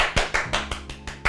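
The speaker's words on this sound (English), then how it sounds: "Clap your hands." About seven sharp hand claps in an uneven rhythm, close and fairly loud, each a short crisp burst.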